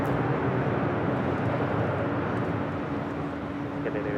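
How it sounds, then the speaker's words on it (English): SAS Airbus A330-300 arriving from Copenhagen touches down on runway 25 left at LAX, heard as a loud, steady jet roar and broadband rumble that holds throughout with little change. "This is the SAS coming in from Copenhagen, A330-300, touching down on 25 left."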